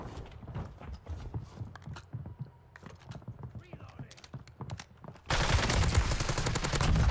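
Gunfire in the Call of Duty Warzone battle royale, a rapid burst of shots arriving abruptly near the end and running loud and dense, after a stretch of softer in-game clatter and scattered taps with a voice talking.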